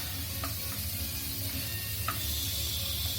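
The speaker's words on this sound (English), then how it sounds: "So we are sauteing the onions now till it gets a little translucent." Chopped onions sauté in a hot pan, a steady close sizzle with a few faint scrapes of stirring and no voices.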